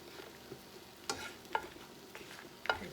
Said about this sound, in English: See, we're just sauteing them.